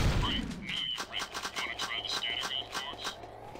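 Rapid bursts of in-game gunfire from Jak and Daxter 2, a steady run of close shots with a heavy boom at the start, played under occasional talk.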